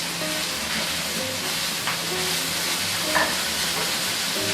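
Leftover fried rice sizzling hard in a hot pan while being stirred and tossed, a constant crackling hiss with occasional scraping clinks of the utensil and a low background hum.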